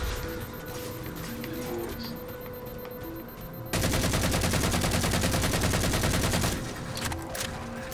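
Rapid automatic assault rifle fire from Halo 4 bursts out loud and sustained for about three seconds, breaking through quieter game sounds and music before fading back to the background.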